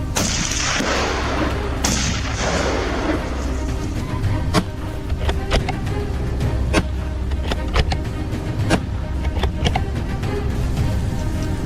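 Sharp gunshots from a hog-hunting party firing at wild boar outdoors, a scattering of separate loud cracks spread irregularly over a steady low rumble of vehicle or wind noise.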